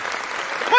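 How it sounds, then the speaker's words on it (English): Brief burst of audience applause at a stand-up comedy show, a dense wash of clapping hands lasting under a second. "uma salva de palmas pra Insider que tá me patrocinando agora"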